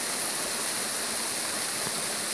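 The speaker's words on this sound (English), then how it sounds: "down by the waterfall." Steady, broadband rushing of a waterfall at Rockwood Glen, a constant hiss of falling water with no voices.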